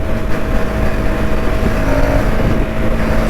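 A KTM Duke motorcycle's engine drones steadily at speed on an open-road ride, a loud, continuous close-up roar with wind rush and a faint rising engine tone throughout.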